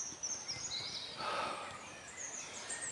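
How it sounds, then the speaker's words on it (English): Faint birds chirp and twitter in the distance over a quiet woodland background, with high thin calls coming and going. "can hear the birds chirping"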